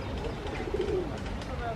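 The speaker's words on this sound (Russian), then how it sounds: "Голуби наглые такие." Soft pigeon cooing outdoors by a lake, blended with steady background noise and a nearby voice talking.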